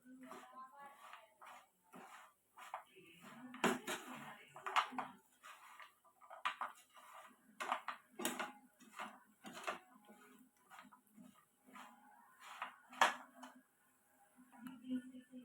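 Sharkkara upperi, banana chips coated in jaggery, are stirred in a pan over a low flame, with intermittent metallic clinks and scrapes of the utensil against the pan while a person talks throughout.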